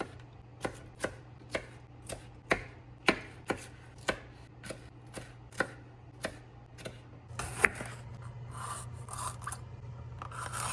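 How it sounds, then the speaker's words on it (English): A knife chops vegetables into tiny pieces for a pasta salad, about a dozen evenly spaced sharp chops on a board, followed by a burst of rougher, quicker cutting. "they're going to be chopped up into tiny little pieces"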